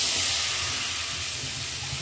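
Water added to a hot kadai while cooking arhar dal gives a continuous, fairly loud steam hiss that stays steady for two seconds, with no speech.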